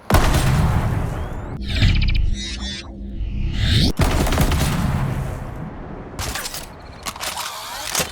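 Shotgun fire in first-person shooter video games: heavy booming blasts with mechanical reload and pump clacks between them, some rapid bursts, loud and close, with no voice heard.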